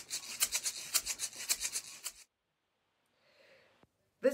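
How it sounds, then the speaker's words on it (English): Homemade shaker of rice in a plastic cup, shaken in a steady rhythmic pattern of dry, gritty swishes for about two seconds, then silence with a faint rustle and a short burst at the end; close and fairly quiet. "I'm recording the plastic cup rice shaker right now."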